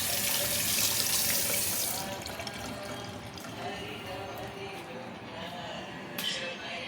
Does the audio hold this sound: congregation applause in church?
no